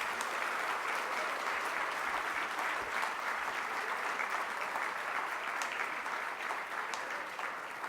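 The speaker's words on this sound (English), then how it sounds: "please join me in applauding their efforts who made this happen" Sustained audience applause at a conference honouring the organisers, dense even clapping from a large hall lasting throughout, fairly distant and steady.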